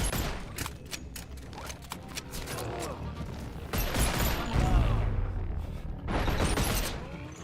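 Two guns fire in Boneworks VR, loud irregular bursts of shots with mechanical reload clatter in between, busy and close throughout.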